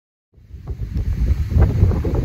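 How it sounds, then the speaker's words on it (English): After a brief silence, strong wind buffets the microphone in a loud, continuous low rumble that gusts unevenly. "You're probably not going to be able to hear me very well because it's very, very windy"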